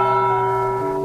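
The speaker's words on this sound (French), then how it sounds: "la cloche a sonné, c'est la fin." A church bell rings out loud and close, its steady sustained tone and humming overtones filling the whole moment without any voices.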